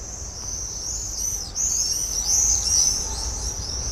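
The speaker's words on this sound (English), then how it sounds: "Fucking birds." Birds call steadily outdoors, with high, shrill chirping running throughout and swelling louder in the second half over a low background hum, with no speech.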